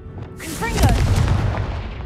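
Confringo fire-blasting spell from Hogwarts Legacy erupts in a loud, booming explosion with a rushing whoosh, then a sustained rumbling roar that keeps going to the end, close and dominant.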